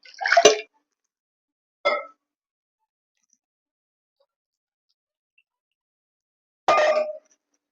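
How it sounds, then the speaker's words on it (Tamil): Water poured into a pan of cooking fish curry in three short, separate splashes, with silence in between. "கொஞ்சம் தண்ணி ஊற்றிக்கலாம்."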